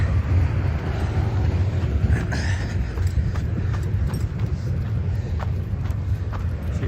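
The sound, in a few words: freight train carrying containers and semi-trailers passing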